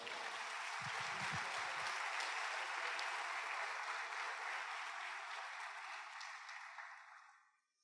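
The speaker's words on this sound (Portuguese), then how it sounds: "Dê um aplauso ao Senhor." Church congregation applauding together during a worship service, a steady, dense wash of clapping that holds evenly and then fades out at the end, with no talk over it.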